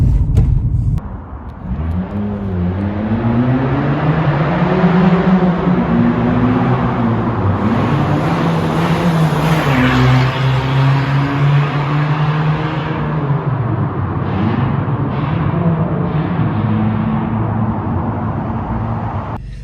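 An Abarth 595C Competizione drives past, heard from outside with a loud, steady engine drone and rising, falling revs over road rumble that fills the whole stretch.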